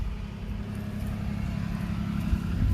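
Road traffic passes nearby outdoors in a garden as a steady, moderately loud low rumble of engines and tires with no clear individual vehicles standing out.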